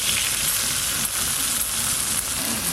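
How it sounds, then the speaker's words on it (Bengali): Neem flowers fry in oil in a kadai, producing a close, constant hissing sizzle with faint stirring ticks and no voices. "এই যে একটু তেল দিয়ে ভালো করে নিম ফুলগুলো একটু ভাজা ভাজা করে নেব"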